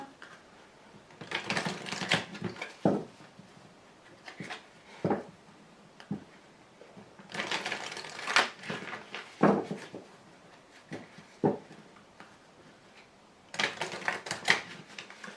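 Tarot cards being drawn, shuffled and laid out on a table, giving intermittent bursts of papery rustling and soft slaps and taps, close and quiet, with pauses between handlings.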